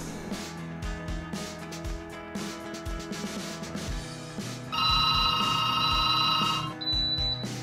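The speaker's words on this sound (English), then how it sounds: "pick up the phone" A telephone rings with steady electronic trills over a background music score, the ring bursts clear and loud against the accompaniment with no talk.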